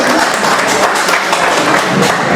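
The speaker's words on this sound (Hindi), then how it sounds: "एक बेर अपना लेल सब गोटा जरूर ताली बजाबियौ" An audience at an indoor award ceremony in Delhi's Hindi Bhawan claps steadily and loudly, producing a dense, continuous wash of applause.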